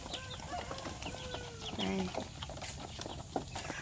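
Muscovy ducks on a farm in the Mekong Delta give soft, faint calls and clucks against steady background noise, with one brief spoken word partway through.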